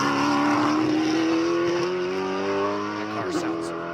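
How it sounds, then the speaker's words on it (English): A race truck climbs the Pikes Peak International Hill Climb course, its engine holding a strong, steady drone that rises slightly in pitch before easing off, with commentary faintly underneath. "That truck sounds so excellent."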